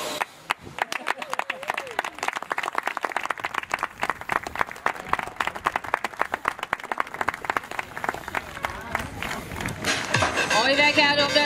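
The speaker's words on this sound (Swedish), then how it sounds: "och så stora applåd för Kungsbacka" Scattered audience clapping at a summer race event in Ängelholm, loose and uneven claps building over several seconds before voices take over near the end.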